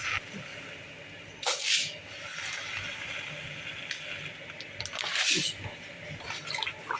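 Lentils are rinsed in a bowl of water in a home kitchen, with wet splashing and swishing bursts near the start and again around the middle over a steady background wash.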